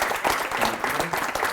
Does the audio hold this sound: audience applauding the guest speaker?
yes